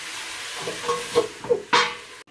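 Garlic frying and being stirred in a pan, with a few soft scraping strokes over a low sizzle, ending in one brighter burst of hiss.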